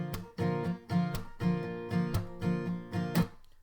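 An acoustic guitar is strummed with heavy string muting on a song. Sharp percussive chops alternate with short bursts of chord, forming a quick, even rhythm at low volume.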